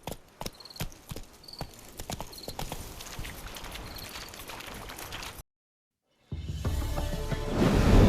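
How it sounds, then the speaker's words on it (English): A horse's hooves clip-clop steadily on hard ground in a medieval fantasy drama, close and rhythmic with faint whinnies, breaking off into a brief silence before louder rumbling resumes. "Spooking my horse."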